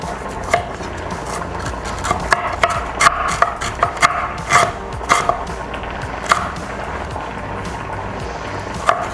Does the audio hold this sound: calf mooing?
no